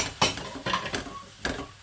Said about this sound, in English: Just want to give that another stir.